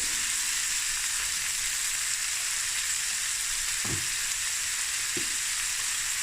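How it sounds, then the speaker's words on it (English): Chopped tomatoes fry in a pan for a fish frikkadel, giving a steady, loud, even sizzle throughout with two brief low knocks from a stirring utensil. "now I'm going to add like 3 tomatoes chopped up, or slices"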